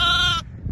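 A sheep gives a single loud, close bleat that cuts off sharply, followed by low rumbling background. The flock of sheep and lambs is being walked back to the block on an Australian farm in light rain and wind.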